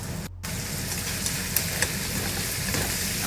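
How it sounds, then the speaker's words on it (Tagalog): Frozen sliced octopus and other ingredients sautéing in a hot pan for adobong sitaw, a steady broadband sizzle that holds throughout with a brief dropout near the start and faint stirring clinks. "So, habang nagigisa,"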